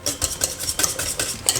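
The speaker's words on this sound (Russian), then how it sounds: "Хорошенько вымешиваем." A spoon stirs lasagna sauce in a pot with a steady run of soft scraping strokes, roughly five a second, close and fairly loud with no voices.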